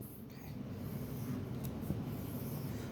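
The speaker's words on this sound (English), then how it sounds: "I'm just going to do a little sketch here." Pen sketching a small graph on paper, a soft continuous scratching and rubbing close by, steady and quiet for a few seconds with no talk.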